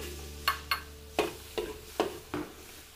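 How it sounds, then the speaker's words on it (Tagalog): Garlic sautés quietly in a pan under a soft sizzle, with six sharp scraping or tapping strokes of a utensil spaced about half a second apart. "Luto-lutuin lang po natin yung bawang."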